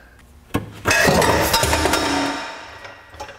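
An exhaust B-pipe and catalytic converter come loose from under an Integra Type R and drop suddenly, hitting with a loud metallic crash and rattling clatter that rings out for a couple of seconds.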